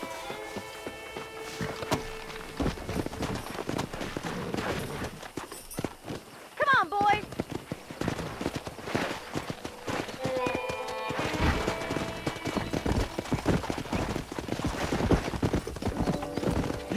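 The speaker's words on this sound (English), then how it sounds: "there's a pack of wild horses nearby" Wild horses in Red Dead Redemption, heard as a constant busy clatter of hooves with a brief whinny partway through, running on under people talking.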